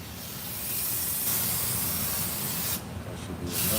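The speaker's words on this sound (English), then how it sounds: "That brake cleaner on there. Want to spray it." Brake cleaner sprays from an aerosol can in a long, steady, loud hiss, briefly interrupted before continuing, with no talking.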